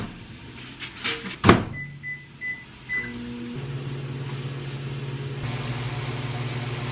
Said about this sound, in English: how long do you microwave these for?